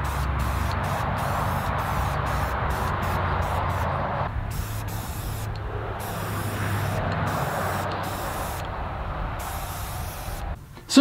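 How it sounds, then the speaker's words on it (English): Aerosol matte clear coat sprayed onto the base of a live-edge stool with pipe-fitting legs, a steady close hiss in long continuous bursts with a brief pause midway and a short final blast. "I'll give the base a nice coat of matte clear just to seal it all up and protect it."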